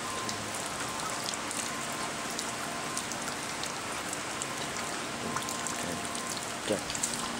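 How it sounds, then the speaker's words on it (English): Steady rain falls across an outdoor area, a dense even hiss of drops holding at a constant level throughout with no pauses and only a faint tap or two near the end. "And now it's raining everywhere."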